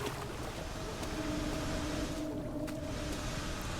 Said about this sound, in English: I mean, you can hear the water monsters around.